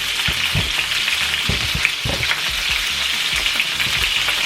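Meatballs frying in a pan, a loud continuous close sizzle and crackle with occasional soft pops and stirring knocks.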